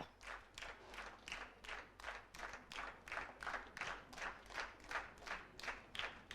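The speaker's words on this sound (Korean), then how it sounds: "관중들 호응도 좋습니다" Spectators at a 2017 Gyeonggi-do women's three-player team bowling rivalry match clap and applaud in a steady, lively burst of rhythmic handclaps that continues throughout, with no talk over it.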